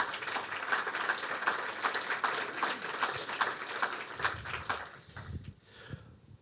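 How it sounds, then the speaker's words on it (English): At the closing of a PyData London conference, the audience applauds its sponsors with a moderate, fairly distant patter of many hands, steady at first and then thinning out into a few last claps. "A big round of applause for them all."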